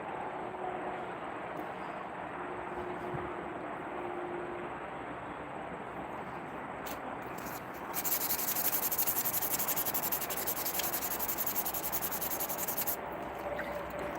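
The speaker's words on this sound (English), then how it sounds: "Just getting the first round of sanding done on this guy here." A slingshot being sanded by hand in steady back-and-forth rubbing strokes, close and continuous, turning harsher and louder for several seconds partway through, with no talk.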